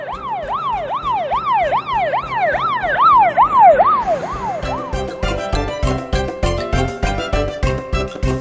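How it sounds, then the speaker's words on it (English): A fire department car siren wails in fast up-and-down sweeps, loud and close, then gives way to a rhythmic pulsing electronic tone pattern toward the end. "Fire department car."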